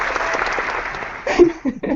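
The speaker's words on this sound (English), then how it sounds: "I want to give us all a big round of applause" A crowd claps in a steady wash of applause, with voices and a little laughter rising over it near the end.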